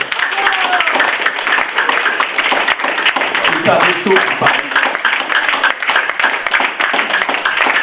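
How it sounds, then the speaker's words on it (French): Steady, close clapping from an audience at a slam poetry evening at the M.J.C. in Morlaix continues throughout, while a person speaks over it. "Vous pouvez continuer d'applaudir."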